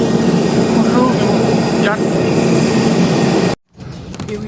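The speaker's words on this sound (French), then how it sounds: "je suis dans mon Pegasus de Osh au Kyrgyzstan pour Istanbul" Cabin of a Pegasus airliner flying from Osh, Kyrgyzstan to Istanbul, a loud steady engine and air roar filling the space throughout, with a brief dropout near the end before the drone resumes.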